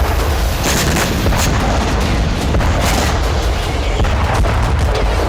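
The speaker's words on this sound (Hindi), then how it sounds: "तो कहीं यूक्रेनी तोपें बारूद बरसा रही हैं।" Artillery guns firing in war footage from the Russia–Ukraine conflict around Zaporizhzhia, a dense, continuous roar of loud booms and gunfire blasts with no pauses across the whole stretch.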